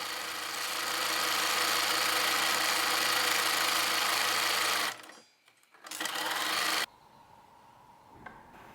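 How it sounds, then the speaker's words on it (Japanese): A sewing machine stitches the shoulder and neckline seams of a blouse, running in a steady close whir for about five seconds, pausing, resuming briefly, then stopping. "次に肩と襟ぐりを縫い代を隠すように縫い合わせよう。"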